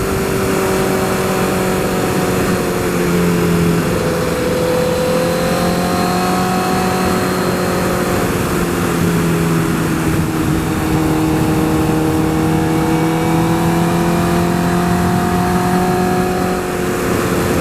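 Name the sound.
2012 Honda CBR 1000RR motorcycle riding, engine revving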